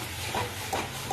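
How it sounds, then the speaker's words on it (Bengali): Whipped yogurt hits a hot sautéed spice paste in a pan, giving a loud, continuous steamy hiss and sputter with a few swelling bursts over about a second. "এবার এর মধ্যেই ফেটানো দইটা দিয়ে দেব"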